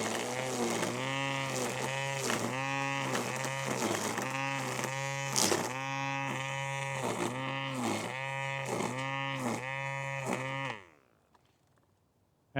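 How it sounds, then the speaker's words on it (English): A VARSK 20V 12-inch cordless string trimmer and edger runs with a steady, buzzing motor whine that pulses slightly, then cuts off abruptly near the end, leaving near silence. "So we have the weed whacker, batteries in, And we simply pull the trigger."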